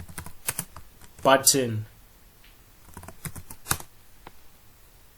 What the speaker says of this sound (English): I could legit type, say, hello